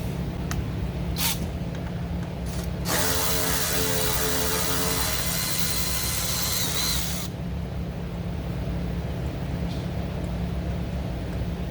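A power tool, likely an impact driver or drill, undoes a bolt on a Ford Transit T-250 3.7 engine, running in one steady burst of about four seconds with brief clicks before it, over a constant low background hum.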